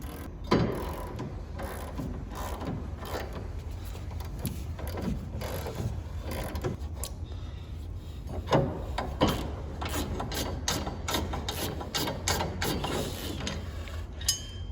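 A ratchet socket wrench clicks steadily as it loosens a motorcycle mounting bolt, a close rapid ratcheting with a few louder knocks and clanks over low room noise, and no voices.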